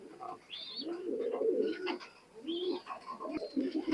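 An imported Oman Teddy pigeon coos in low rolling bursts, two or three drawn-out phrases close by, with faint chirps of other birds in the background.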